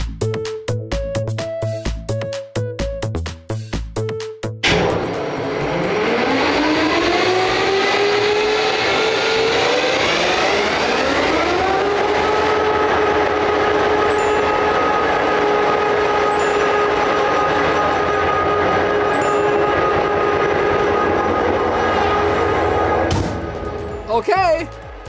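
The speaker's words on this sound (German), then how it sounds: "Es wird sehr laut hier drin, wenn wir den Motor anlassen." A heavy locomotive engine cranks and roars to life indoors, its deep droning pitch rising and settling into a loud steady rumble that fills the space.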